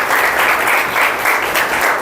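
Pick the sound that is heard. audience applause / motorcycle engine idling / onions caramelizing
audience applause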